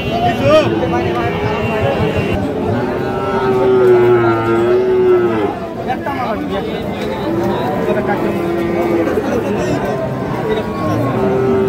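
Sahiwal breed calves mooing repeatedly at a busy cattle market, their low drawn-out calls running under steady crowd chatter and nearby talking.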